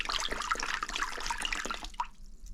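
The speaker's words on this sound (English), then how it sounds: "now I can wash it off with just water and soap" Water and soap sloshing and trickling over a Vespa PX scooter's turn-indicator lamp, a steady close splashing wash with small drips that stops abruptly near the end.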